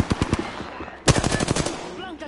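Rapid bursts of automatic gunfire from an enemy in a shooter video game, two clusters of loud, sharp rattling shots separated by a brief lull.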